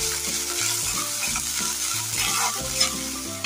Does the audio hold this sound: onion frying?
yes